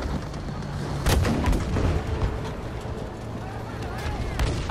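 Heavy artillery fire and gunfire in Battlefield V, a World War II shooter, with a sharp boom near the start and further blasts and shots scattered through dense battle noise, under a speaking voice.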